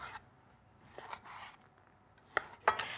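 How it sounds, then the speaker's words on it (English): Knife cutting raw chicken breast into even pieces on a board, heard as a few soft scattered cuts with two sharper chops near the end, quiet and without talk. "And then we'll turn it around and then cut them, making sure that they are quite even so they cook"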